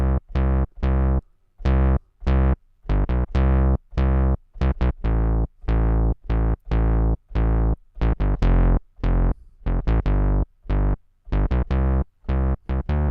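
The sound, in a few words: synth bass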